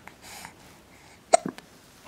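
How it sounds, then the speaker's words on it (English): A baby hiccups once, a brief sharp vocal catch close by in a quiet room, followed by a smaller breathy sound. "Hiccup."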